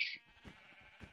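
Sheep bleating in a video game, a loud high bleat at the start followed by softer game sounds and short thumps.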